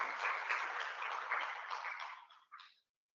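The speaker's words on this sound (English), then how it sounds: "Round of applause." Conference audience applauds a speaker, a muffled, moderately distant wash of clapping that holds steady for over two seconds, then tapers off with a brief final burst before silence.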